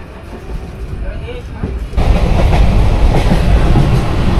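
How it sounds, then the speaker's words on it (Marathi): A passenger train pulling out of Sawantwadi Road station, heard from inside the carriage: a quieter interior rumble suddenly swells into loud, steady rolling noise with rhythmic wheel clatter, and a voice speaks briefly early on. "आता आपली ट्रेन सुटली आहे."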